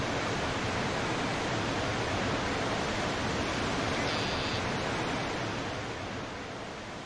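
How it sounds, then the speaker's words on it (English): Loud, steady rushing waterfall roar from a logging map in a video game, a dense continuous wash that holds for several seconds and tapers slightly at the end. "A really loud sound on that waterfall"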